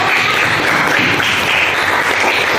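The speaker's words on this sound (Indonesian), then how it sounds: "Maka kita kasih tepuk tangan dulu untuk Dela." Classroom applause for a student, a dense, steady wash of many hands clapping that holds at an even level for the whole stretch with no talk over it.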